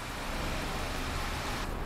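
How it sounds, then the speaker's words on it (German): Steady rain with thunderstorm ambience in the bus driving game The Bus, set in Berlin, a dense, even hiss of rainfall with no distinct thunderclap and no talking. "Wir fahren immer noch mitten im Regen und Gewitter und Donner hier rum."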